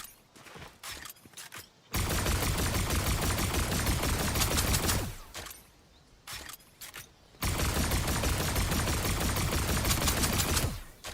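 Bursts of rapid automatic fire from a lock-on pistol in a shooter video game, two long sustained volleys of dense, loud shots separated by brief quieter gaps with scattered single shots.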